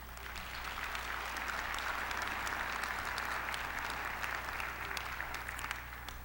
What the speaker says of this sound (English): give a resounding round of applause to all the sponsors of today's event